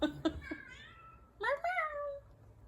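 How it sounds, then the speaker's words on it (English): A house cat meows twice, close and clear, rising and falling in drawn-out calls after a few short voiced sounds at the start. "You hear my cat?"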